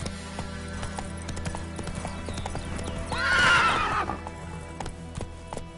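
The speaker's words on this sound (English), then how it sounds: "Run, Roach." Hooves clip-clop rhythmically as a horse gallops in The Witcher 3 on PS5, with a loud whinny near the middle, over a continuous game soundtrack background.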